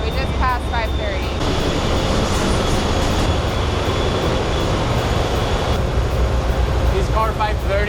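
Loud, continuous rumble of the California Zephyr passenger train rolling along the rails, heard from on board, with a thin steady whine and brief voices at the start and end.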